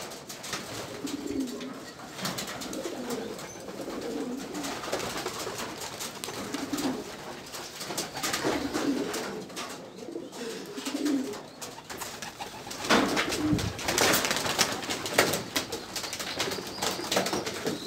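Several pigeons coo in soft repeated low bursts throughout, close by, with occasional wing flutters and rustling, and someone speaks briefly over them.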